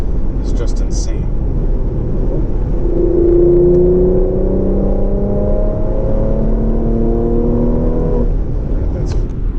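A 2020 Porsche Macan GTS accelerates hard from inside the cabin, its engine note climbing steadily with rising tonal whine through the pull, loud and continuous, with a few brief talking sounds near the start and end.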